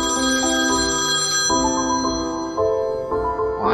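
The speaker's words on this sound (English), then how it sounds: "Well, I'm just gonna answer this phone." A telephone rings in a horror video game with a steady, loud, tonal ringtone. The melodic notes shift in sequence and repeat throughout with no talking.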